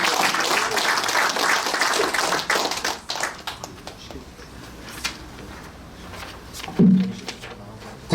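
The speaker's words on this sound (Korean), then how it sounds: "우리 다시 한번 뜨거운 박수 보내주시면 감사하겠습니다." Audience clapping at a Korean church emergency prayer rally in a hotel venue, a burst of applause that fades after a few seconds into scattered claps and light room noise.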